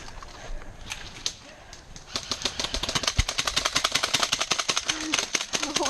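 Airsoft pistol firing during a defend-the-bank game at an outdoor airsoft field in Bristol, Wisconsin: a steady run of sharp snapping shots fills the second half, rapid and fairly close, with other shooters audible in the background.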